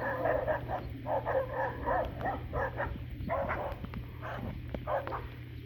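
A dog barks and yelps repeatedly outdoors in a desert by dry lake beds, a string of sharp bursts at moderate distance over a steady low hum.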